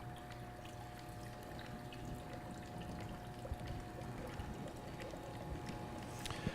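Water flows through a Blacoh hybrid damper valve, a faint, smooth, continuous rushing with a soft steady hum and occasional tiny ticks.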